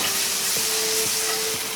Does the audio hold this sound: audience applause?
no